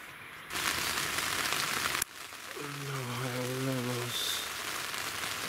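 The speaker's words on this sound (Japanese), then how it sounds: "めっちゃ雨です。 めちゃめちゃ降ってんねんけど" Heavy rain pours down steadily on a Coleman Cimmaron 8-person tent at a solo campsite in Kasagi, a dense continuous hiss throughout, with a brief voice heard midway.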